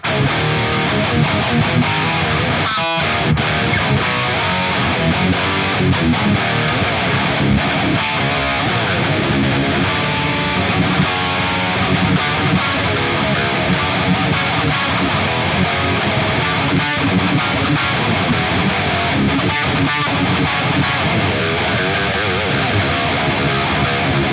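A Spira electric guitar through a Neural DSP tone plays continuously at high volume, dense and heavily distorted, with thick, saturated chugging and sustained chords.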